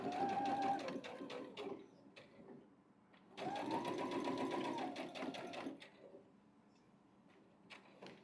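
Sewing machine stitching a beginner's baby quilt, running in two close bursts of steady whirring with a short pause between, then quieter fabric handling.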